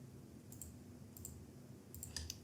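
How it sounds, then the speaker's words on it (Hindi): A computer mouse clicked repeatedly while Ctrl is held down to select blank rows in an Excel spreadsheet, giving a handful of faint, crisp clicks in small pairs over a quiet room hiss. "तो हम लोग कंट्रोल को दबाए रखेंगे और इस तरह से क्लिक करते जाएंगे।"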